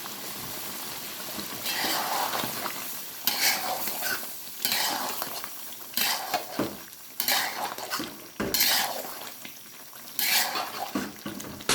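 Chicken karahi being stirred and roasted with spices in a wok, Lahore style, with a steady sizzle of frying under repeated scraping and clinking of a utensil against the pan, close and fairly loud.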